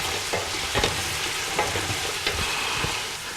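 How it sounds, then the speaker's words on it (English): Onions and garlic sizzling in hot oil in a home kitchen, a steady crackling hiss with occasional sharper pops and stirring clicks, close up, while cooking Italian meatballs and sausage. "Now that the onions and garlic are really sizzling now. The oil's really bubbly."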